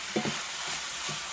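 Butter and sausage fry in a pan for a sausage gravy roux, a soft crackling sizzle broken by a few brief stirring knocks near the start, close and without talk.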